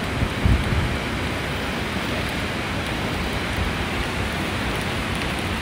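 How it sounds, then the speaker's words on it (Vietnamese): Heavy sea waves break on a rocky coast in drizzling rain, making a steady, dense wash of noise with one louder surge near the start and no voices. "Sóng biển rất là lớn. Đang mưa phùn."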